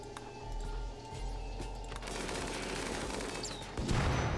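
Rapid gunfire crackles continuously in the video game RimWorld over a steady electronic music bed, growing denser and louder toward the end.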